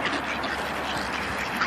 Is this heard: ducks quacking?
yes